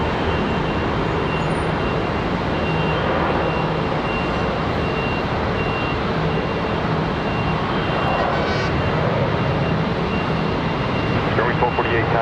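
A United Airlines jet airliner at Charlotte Douglas International Airport, a continuous broad engine rumble and roar that stays steady and fairly loud, with a voice talking over it.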